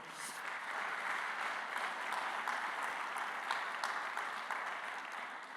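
Steady applause from a church congregation fills the room, sustained and even throughout with no voices standing out.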